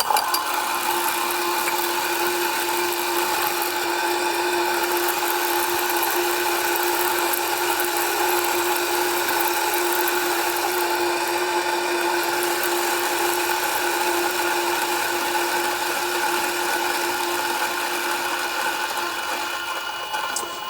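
A Kafatek Monolith Max 2 coffee grinder runs at 250 RPM with hot-loaded beans, giving a steady, loud, continuous mechanical grinding whir with a clear tonal hum that holds evenly throughout, no talking.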